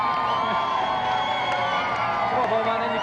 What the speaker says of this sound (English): Round of applause for Golden Bomberman.